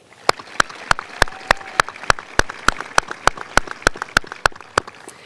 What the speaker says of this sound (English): Please join me again in applauding these students.